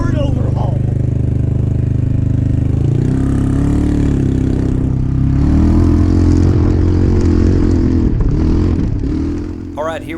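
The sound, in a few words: Fang Predator FX400 311cc 4-stroke engine running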